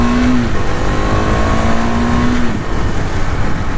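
A Husqvarna Svartpilen motorcycle accelerates hard and loud, its engine note and exhaust roar steady and close, with the pitch easing slightly partway through.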